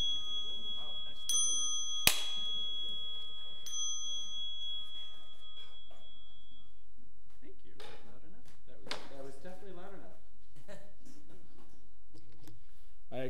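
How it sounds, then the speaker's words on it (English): A small bell rings with a bright, sustained metallic ding, struck a couple of times early on, during a Sunday church service at St. Peter's, followed by a congregation murmuring and people speaking. "May the sound of the bell remind us that the Spirit of God is within us and among us."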